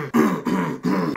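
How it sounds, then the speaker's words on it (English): A man clears his throat three times in quick succession, close and fairly loud, each rough guttural burst separated by brief pauses, with no speech. "I clear my throat in videos"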